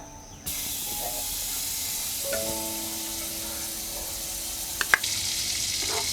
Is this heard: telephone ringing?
no